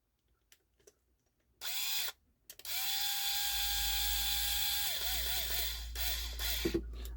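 A cordless electric screwdriver whirs in short bursts while driving screws into a Micro Seiki MB-14 turntable during servicing. It gives a brief burst, then a long steady run, then several quick pulsed triggers, all close and loud with no talk.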